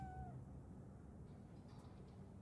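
A cat in Cyberpunk 2077 gives a short, quiet meow at the very start, followed by a low, steady ambient hum with no speech.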